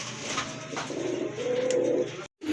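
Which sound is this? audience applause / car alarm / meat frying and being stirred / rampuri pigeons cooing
rampuri pigeons cooing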